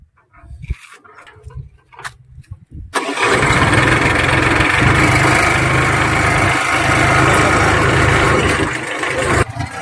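A motor engine starts after a few sputters and clatters, then runs loudly and steadily at close range, with a dense rumbling roar that holds evenly to the end.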